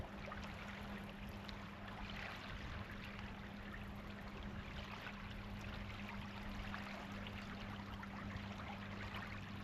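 Incoming tide water washing up the Solent shore at night while sea fishing: a steady, unbroken rushing wash that stays loud and even throughout, with a low constant hum underneath and no voices.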